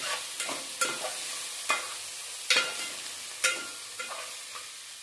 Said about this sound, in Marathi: छान असं परतून घेऊयात